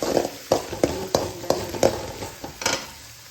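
Egg bhurji roasting in a pan, with about eight sharp rhythmic scrapes and taps of a spatula over a soft continuous sizzle, close and fairly loud.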